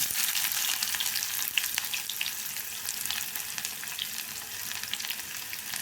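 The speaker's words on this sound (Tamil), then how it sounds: "கடுகு நல்லா பொரிஞ்சுக்கிட்டு அப்புறம் வெங்காயம் போட்டுடுவோம்" Chopped onion fries in hot oil with mustard seeds, giving a dense, even sizzle and crackle that holds steady throughout at close range.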